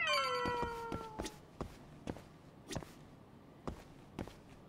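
A cat in the video game Judgment lets out a single drawn-out meow that slides downward at the start, followed by regular soft footstep-like taps with no speech.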